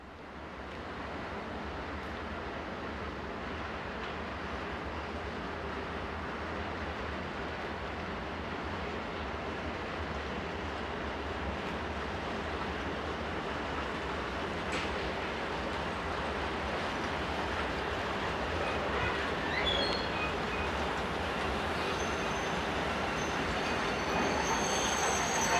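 Pair of RE44 electric locomotives bringing an eastbound train for Zurich into a station, a continuous loud rolling roar of wheels on rail with faint squeals growing slightly louder as it arrives.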